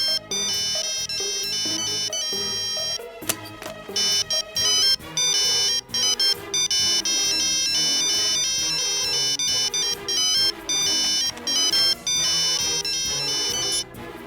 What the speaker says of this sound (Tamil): செல்போன் சத்தம் எங்க இருந்து வருது?